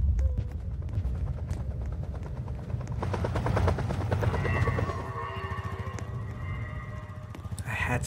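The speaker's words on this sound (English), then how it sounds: "I should be fine as long as I don't run into Mr. Helicopter." Helicopter enemy in a video game, a steady rotor chop churning throughout at moderate loudness alongside other game sounds, with no speech over it.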